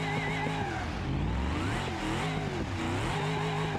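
A car with engine damage revs and strains up a hill as its throttle is feathered, giving a continuous, wavering engine whine with rising and falling pitch and some tire slip, close and unbroken.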